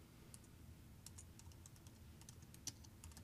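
Fingers tap on a computer keyboard in a quiet room, giving faint, irregular keystrokes in short bursts with a few sharper clacks.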